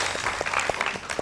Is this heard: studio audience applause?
yes